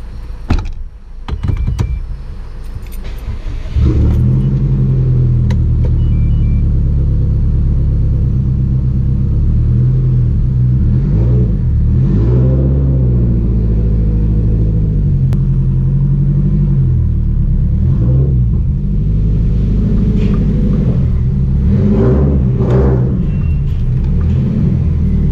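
A tuned Subaru WRX making 450 wheel horsepower rumbles loudly and steadily, with its engine note rising and falling in a few revs over a constant deep drone, and no talking.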